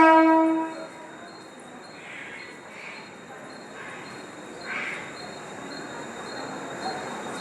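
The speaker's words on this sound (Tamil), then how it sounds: "பாருங்க மக்களே, ட்ரெயின் வருது." A Mumbai local commuter train approaches with a steady rumbling roar and faint rising squeals of wheels, preceded by a short horn-like tone at the start.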